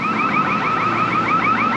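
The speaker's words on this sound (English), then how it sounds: "That's a bank, and the alarms always go off." A bank's alarm going off on a city street in Mexico, sounding a loud, continuous warbling electronic tone that sweeps rapidly up and down in steady repeating cycles over background street noise.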